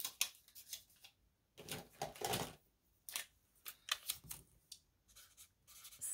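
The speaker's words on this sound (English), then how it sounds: "let me write that down on a piece of paper" A pen scratches across a piece of paper in short bursts of strokes with brief pauses, faint and close, with no talking.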